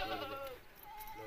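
Goats on a high farm at about 2800 m altitude give a brief bleat, a wavering call heard close and fairly quiet, with light background noise.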